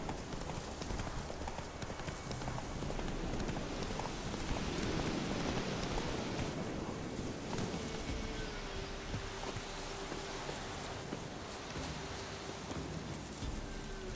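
In The Witcher 3, the horse Roach gallops with steady rapid hoof clip-clop over a dense wash of rain, the whole scene fairly faint and continuous, no one speaking.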